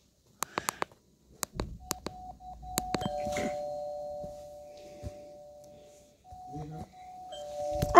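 A synthetic doorbell chimes in the game Brookhaven with sharp electronic tones, followed by a sustained hum and a few more digital beeps, clean and close.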